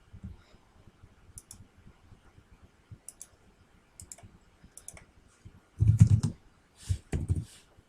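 Keys clatter in quick, irregular taps on a computer keyboard at close range for several seconds, then a few louder, heavier thumps near the end.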